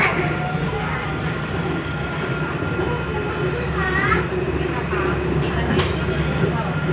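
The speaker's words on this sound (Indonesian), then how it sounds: "ini kita berangkat dari stasiun kereta bandara" An airport rail-link train departs the station, giving a steady, loud rumble and rolling hum with faint squeals and chimes on top, while people talk inside the carriage.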